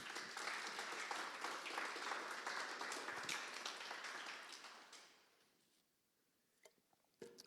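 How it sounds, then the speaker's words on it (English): Audience at a modding talk claps for voice actors, a lively round of applause that swells then fades out after about five seconds, leaving a quiet room with a few stray sounds. "Let's give these guys some applause"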